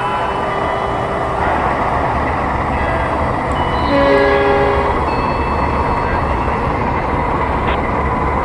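A train horn sounds a long signal 35 in Trainz Simulator, a steady tonal blast rising and sustaining over the continuous rumble and rolling of the locomotive, loud and near.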